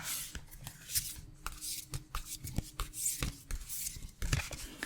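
Cards being shuffled by hand, a run of quick papery riffles and slaps repeating irregularly, close up with no voices.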